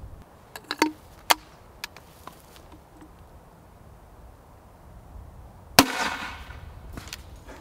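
A Spikes Tactical 37mm Havoc grenade launcher fires a round outdoors with one sharp, loud report, preceded by a few small clicks and taps and followed by a brief fading rumble.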